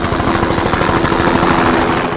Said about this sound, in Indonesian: akhirnya Ellen pun mengirimkan helikopter ke penjara tersebut